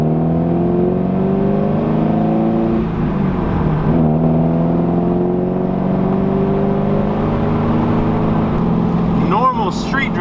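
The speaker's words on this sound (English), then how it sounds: "Normal street driving, not too bad." Car fitted with a Karma bodykit driving on a city street, engine note rising and falling through gear changes with whirring tones and road noise, close and steady, a brief chirp near the end.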